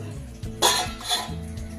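A lid clanks onto a pot set up for steaming hilsa fish over a tiffin box, a sharp metallic clatter followed by a smaller knock, with fainter handling sounds around it.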